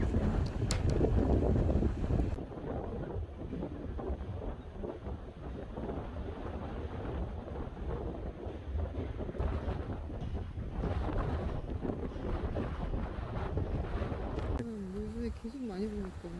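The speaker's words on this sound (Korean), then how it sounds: "바람이 이렇게 많이 부네요" Strong wind at the seaside along a coastal walking trail roars steadily into the microphone, a dense low buffeting rumble that never lets up, with a brief voice near the end.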